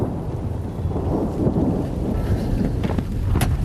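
A thunderstorm rages near a road, with a heavy, continuous roar of rain and wind and a deep rumble of thunder, loud and close throughout, with no talking.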